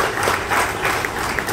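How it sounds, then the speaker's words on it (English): Brief burst of steady, full applause from an audience at a September 11 anniversary event held at Westminster, loud and continuous. "I give him a round of applause for that list."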